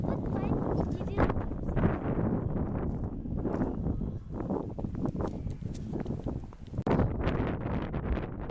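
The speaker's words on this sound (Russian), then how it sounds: "Сегодня очень сильный ветер." Strong wind buffets the microphone outdoors in the old Belarusian town of Turov, a loud, steady rumbling roar with gusty bursts that continues under a speaking voice.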